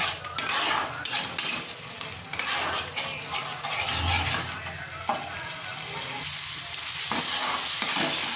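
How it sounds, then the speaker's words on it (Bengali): Spice paste for a rui fish kaliya being sautéed in a pan over low-to-medium gas flame, a dense close sizzle broken by stirring scrapes and metal utensil clinks, with some talk in the background. "গ্যাসের ফ্লেমটাকে লো টু মিডিয়ামে রেখে মশলাটা কষবো।"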